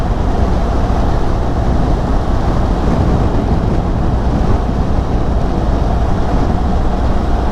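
Steady, loud wind rush and low engine rumble from a BMW R1200GS adventure motorcycle riding toward White Woman's Waterhole, continuous with no pauses and no talk.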